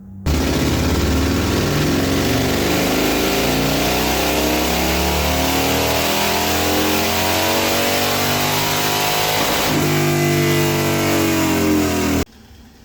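A 128ci Harley-Davidson Fat Bob with a 2-into-1 exhaust roars on a dyno run, its engine note rising steadily through a long wide-open pull before it cuts off abruptly near the end.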